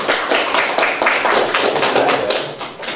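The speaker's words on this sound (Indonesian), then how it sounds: "Tepuk tangan untuk kelompok 2." Students in a mathematics classroom clap for a presenting group, a dense, steady patter of many hands held close and loud for about three seconds, with no voices over it.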